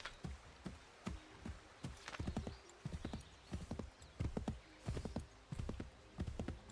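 Horse hooves clip-clop in Assassin's Creed III, with steady repeated hoofbeats in uneven bursts close by and no talk over them.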